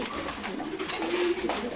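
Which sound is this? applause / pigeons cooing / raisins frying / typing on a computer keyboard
pigeons cooing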